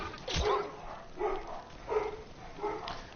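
Dogs barking in the fighting game Mortal Kombat 11, four short yipping barks spaced about evenly apart, moderately loud over a quiet background.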